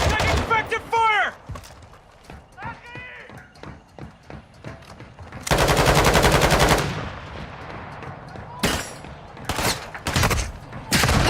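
Gunfire in Call of Duty DMZ, bursts of automatic fire and rapid shots in loud clusters, near and harsh, with shouted voices between volleys.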